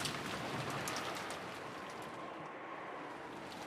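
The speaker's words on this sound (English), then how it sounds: "Outside, the rain poured down heavily." Heavy rain pours down steadily in a video game scene, a dense continuous hiss with no pauses or voices.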